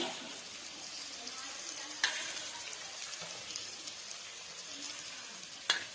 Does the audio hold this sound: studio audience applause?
no